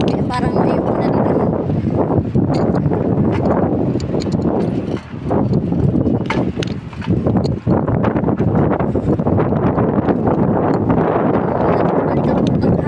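Strong gusting wind roars across the microphone outdoors in the cold, a dense rumble with brief lulls, while a person talks underneath.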